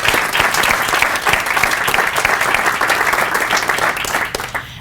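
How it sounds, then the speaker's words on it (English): An audience in a high school library claps for educators at a signing ceremony, a loud, sustained round of applause from a crowd that fades out at the end. "if we can give a round of applause for our educators"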